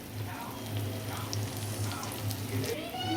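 Masala of cumin and turmeric powder frying in a pan for crab bhuna, making a soft, continuous sizzle with small stirring scrapes and a faint low hum under it.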